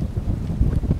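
Steady, cold wind buffeting the microphone at an outdoor fishing spot, low rumbling gusts swelling louder toward the end; no voices.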